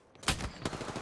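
Gunfire in the battle royale game Apex Legends: a short burst of several sharp shots, fairly close and moderately loud, with no talking.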